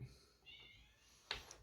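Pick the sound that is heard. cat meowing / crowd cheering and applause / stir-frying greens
cat meowing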